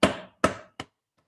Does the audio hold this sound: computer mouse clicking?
no